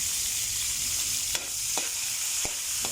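Tomatoes being stirred in a frying pan, a steady bright sizzle running throughout with a few soft spoon scrapes against the pan at irregular moments.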